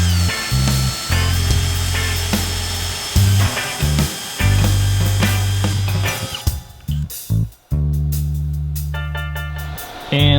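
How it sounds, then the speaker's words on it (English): A power drill bores a 1¼ inch hole, with loud, steady whirring bursts that start and stop several times, ending in a brief high-pitched run near the end. "So we're gonna drill 1¼ inch hole right here and on the other side."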